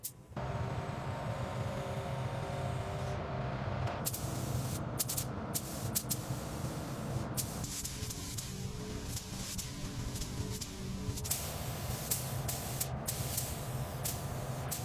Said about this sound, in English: This gray primer is essential for getting that deep gloss later. We're applying it evenly across the entire bodywork.